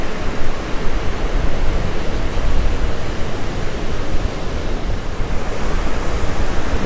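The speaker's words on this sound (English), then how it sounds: "The waves are really smacking up against the jetty up there in the front." Gulf Coast surf at a beach pounds against a pink granite jetty, a continuous loud wash of crashing waves with constant rushing water and some wind noise.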